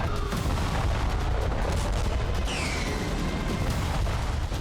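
Ukrainian forces mount an artillery and gunfire attack, a dense, continuous rumble of distant shots and heavy booms blurring together, with no voices.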